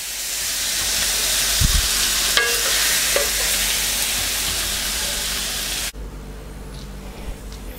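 Beef luc lac keeps sizzling in a hot pan after the heat is turned off, a steady loud frying hiss with a brief stir clank, dropping abruptly to a quieter crackle near the end.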